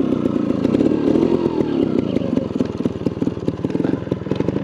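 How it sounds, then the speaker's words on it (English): A gas-powered Beta trials motorcycle runs close by at Silver Creek with a loud, rough, pulsing engine note and rapid firing. The sound holds fairly even, with slight changes in revs. "this is a normal gas powered bike with normal shifting"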